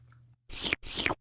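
Two close, crisp crunches of Cool Ranch Doritos-style tortilla chips being bitten and chewed, each burst sharp and loud after a brief quiet pause.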